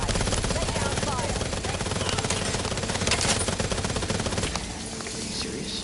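Video game gunfire in The Outer Worlds 2: dense, rapid automatic bursts rattle on continuously under loud combat noise, thinning out toward the end.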